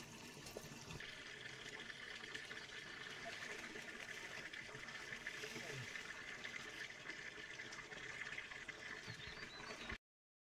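Water runs steadily from a spring spout near a Himalayan village, a continuous close splashing gush that carries on evenly for about ten seconds before it cuts off abruptly.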